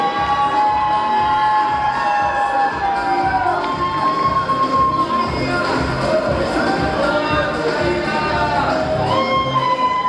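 An audience cheers and shouts for the winner at the grand final of the Miss BashGU 2019 pageant, a loud, dense crowd roar that holds steady throughout.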